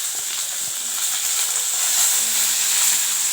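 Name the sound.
onions sizzling while sautéing in oil with ginger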